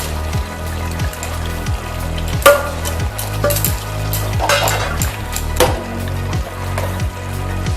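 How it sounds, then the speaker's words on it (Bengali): Fried prawns tipped into a simmering banana flower and potato curry in a pan, giving a steady close sizzle with scattered utensil clinks and scraping stirs, with no talk over it. "চিংড়ি মাছ ভাজাটা দিয়ে দিলাম।"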